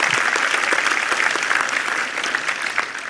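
Audience applause following a conference talk on JSON web tokens, a steady wash of clapping from a sizable room that holds even for a few seconds, then thins slightly near the end.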